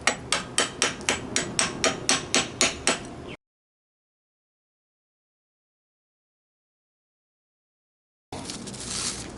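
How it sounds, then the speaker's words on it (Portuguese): A hammer chips slag off a stick-electrode weld bead on metal tubing, striking a rapid, evenly spaced run of about a dozen sharp metallic taps close up, followed after a silent gap by brief scraping noise. "vamos ver a cara dele aqui quando a gente quebra a escória"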